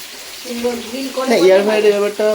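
Food frying in a pan, a steady sizzle with crackling, heard under someone talking in Bengali close to the microphone throughout.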